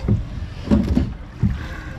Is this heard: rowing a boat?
yes